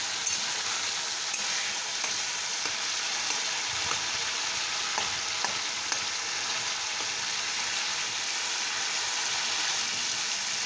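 Bengali labra, a mixed vegetable dish, sautéing in a pan for festival khichuri, a steady, close, even sizzle and crackle running the whole time with no talking.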